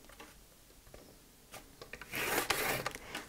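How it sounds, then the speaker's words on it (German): A scoring tool is drawn along cardstock to crease a fold line for a card. It makes quiet scraping and rubbing strokes, with light taps at first, then a louder, longer rasping pass close by. "Und jetzt falze ich mir das gleich"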